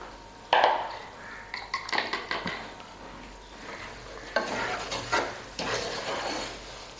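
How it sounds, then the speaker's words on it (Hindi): Semolina and ground coconut roasting in a pan for coconut halwa, a series of spatula scrapes and stirring knocks against the pan over a faint background, loud and close in irregular bursts. "अभी इसको भी भून लूंगी मैं कलर चेंज होने तक"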